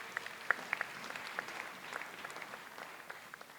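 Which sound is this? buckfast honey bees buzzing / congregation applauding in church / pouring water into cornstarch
congregation applauding in church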